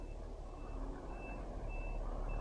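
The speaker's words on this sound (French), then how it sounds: "Est-ce qu'on laisse passer le camion?" Reversing alarm of a truck on a road, a regular series of evenly spaced high beeps repeating over a steady background rumble of traffic and wind, faint and somewhat distant.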